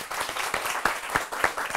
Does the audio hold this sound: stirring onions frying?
no